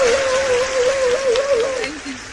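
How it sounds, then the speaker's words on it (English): Audience applause for a poet at a summit: steady, dense clapping that fills the whole stretch at close range, with a thin sustained wavering tone running beneath it before fading near the end. "let's give her a round of applause,"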